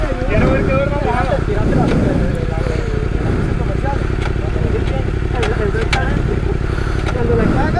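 A BMW F800GS motorcycle engine idles steadily and loudly up close in winter, a low continuous rumble, with people talking over it.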